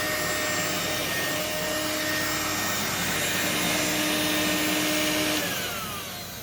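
A Regina Electricbroom vacuum cleaner runs with a steady, loud motor whine and airy roar, close up and continuous before tapering off at the end.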